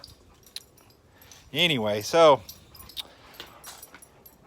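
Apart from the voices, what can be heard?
dog whimpering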